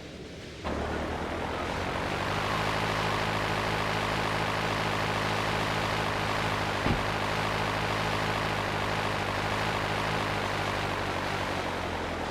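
A Dodo airplane's propeller engine in a video game drones steadily and loudly, starting abruptly and holding a constant buzzing pitch, broken by one brief click partway through.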